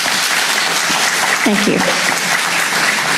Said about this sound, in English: Could you applaud that?